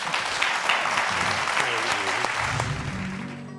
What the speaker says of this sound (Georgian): მოდით აპლოდისმენტებით